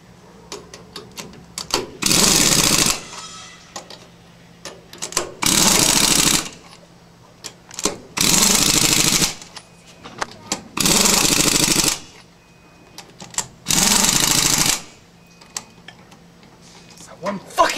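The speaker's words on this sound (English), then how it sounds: "You're going to want to turn down the impact wrench way down so you don't strip any of the bolts." An impact wrench tightening car wheel lug nuts during a brake change, five loud rattling bursts of about a second each at a steady interval, with quieter clicks and shuffling between them and speech in the background.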